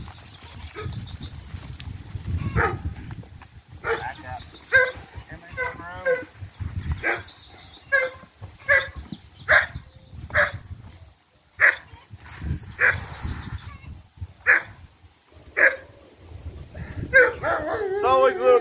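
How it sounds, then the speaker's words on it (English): Several goats bleat and cry out repeatedly and close by, overlapping in an excited chorus, with people talking among the noisy animals. "It's always a little crazy feeding the goats."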